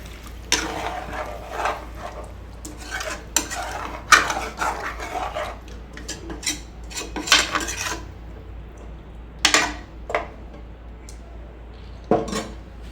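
Metal spoon scraping and clinking against a metal pot while stirring chicken curry, in irregular bursts, fairly close, with quieter gaps between strokes and no talking.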